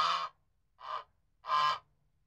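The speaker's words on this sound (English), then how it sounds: "Wild goose." A wild goose gives three short, harsh honks, evenly spaced, each loud and close with clear silence between them.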